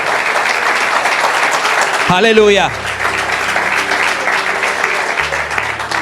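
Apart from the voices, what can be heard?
congregation applauding in church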